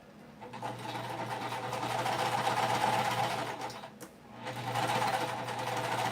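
A home sewing machine, a Phoenix PMQ, stitching quilt pieces together with a steady close whirring drone that pauses briefly partway through, then resumes.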